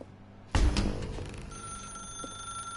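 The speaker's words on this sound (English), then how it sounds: "Now pick up the phone." A telephone rings in the video game The Stanley Parable: a sudden loud metallic bell burst starts the ringing, followed by a trailing bright ring and sustained tones with no talking.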